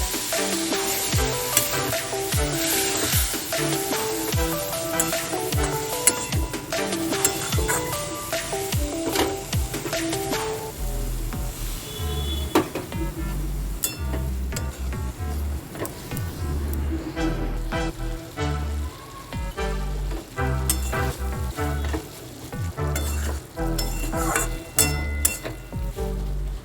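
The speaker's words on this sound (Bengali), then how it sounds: "মশলাটা যাতে পুড়ে না যায় তার জন্য মশলা পাত্রে দেওয়া জলটা দিয়ে দিলাম" Spices frying in a pan for a Bengali fig curry (dumurer dalna), with water added and the mix stirred, give a steady sizzle and busy scraping all the way through, fairly loud and close, with heavier thumps later on.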